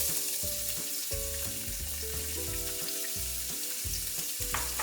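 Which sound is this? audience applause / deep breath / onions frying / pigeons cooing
onions frying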